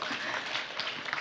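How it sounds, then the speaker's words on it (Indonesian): Audience applause at a university guest lecture and discussion forum, a dense steady wash of clapping that holds throughout at moderate loudness with no speech. "boleh tepuk tangannya lebih meriah"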